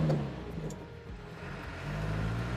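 An Isuzu NPR115 six-wheel glass-roof bus pulling away in first gear, its diesel engine a low, moderately near rumble that swells, dips, then builds again as it moves off.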